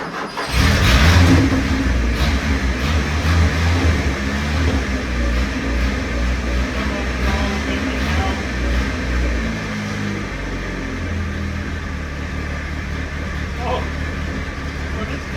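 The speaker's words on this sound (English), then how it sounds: "This thing fires up and runs, but it won't stay running on its own." A 1979 Ford Courier 4x4 pickup engine cranks, fires and runs while held on the throttle, a loud, rough, close idle that surges early and settles into a steady drone.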